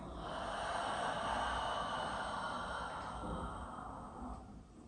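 A long, steady breath out during yoga practice: close, soft and airy, lasting several seconds and then tapering away.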